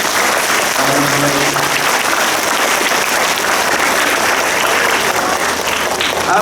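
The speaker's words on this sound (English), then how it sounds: "give it one more round of applause" Students at a school sports assembly give a loud, continuous round of applause, a dense crowd of hands clapping steadily in a large room, with a brief voice rising under it near the start.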